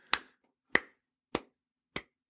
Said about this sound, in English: Stop clapping or I cut your hands off.